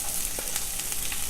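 Chopped shallots sizzle in hot oil with popped mustard seeds, a dense steady frying hiss with small crackles throughout.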